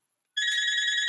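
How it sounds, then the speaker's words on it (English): A phone rings indoors, starting abruptly after a brief silence with a bright, steady electronic bell tone that holds to the end, fairly close and moderately loud. "Please excuse my phone ringing."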